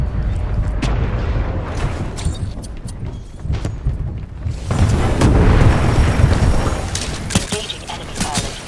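A Titan drops in and lands in the video game Titanfall 2, heavy booming impacts and rumbling crashes with mechanical clatter, a louder surge of roaring noise midway, mixed with game sounds and brief voice lines.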